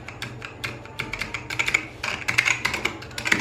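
Typing on a Vortex POK3R keyboard fitted with lubed Gateron Brown tactile switches, a steady run of close, crisp keystrokes with irregular rhythm that grows busier and louder in the second half.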